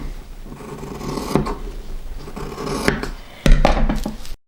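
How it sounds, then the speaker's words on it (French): Scissors cut through fabric for a sewing project with close rasping and rubbing snips, irregular and fairly loud, and a sharper crunch of cutting toward the end with no voices. "Et maintenant, je vais découper ces tissus"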